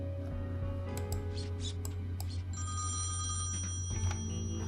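A telephone rings in Thimbleweed Park, a repeated electronic bell trill that sounds alone over the steady game background hum, with a higher tone sustained through the second half.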